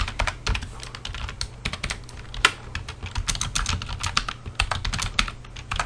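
Rapid, uneven clicking of computer keys as code is typed, with short bursts and brief pauses, close and crisp throughout.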